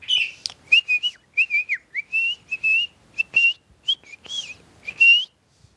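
Bright, clear morning birdsong: a string of short whistled phrases and chirps repeating with small pauses, fairly close in otherwise quiet surroundings.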